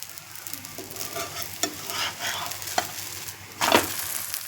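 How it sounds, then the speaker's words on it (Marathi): Mung bean dhirde pancake frying in a little oil in a pan, a steady soft sizzle with a few scraping stirs and a louder clatter near the end, no talking. "आता मस्त असं भाजू देते मी"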